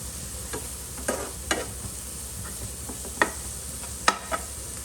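Ingredients with powdered sugar and lemon juice are stirred in a bowl, producing a run of light, irregular scraping and clinking strokes over a quiet background hum, no talk.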